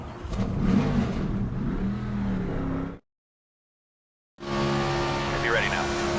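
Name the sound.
race car engines starting and revving in NASCAR 25 video game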